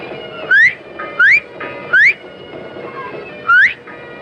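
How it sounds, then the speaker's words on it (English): In a 1977 radio adventure drama, a person whistles three short rising notes in quick succession, pauses, then gives one more. The whistles are loud, clear and close, with no talking. "Whistle 3 times, then once, like this."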